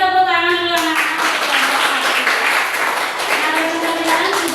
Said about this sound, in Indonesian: Beri tepuk tangan dulu anak-anak